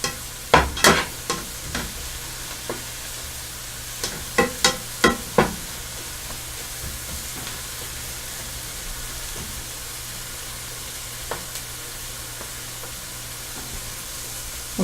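Onions frying in a pan while being stirred, a steady sizzle beneath bursts of scraping spoon clusters early on and occasional lighter clinks later.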